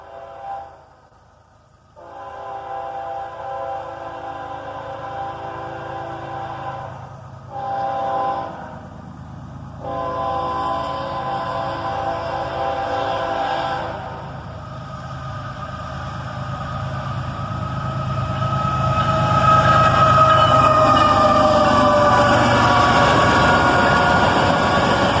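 Freight train of covered hoppers led by two Canadian Pacific ES44AC locomotives rolls past, a steady rumble and wheel noise building louder toward the end as the units draw near, with horn-like tones mixed in.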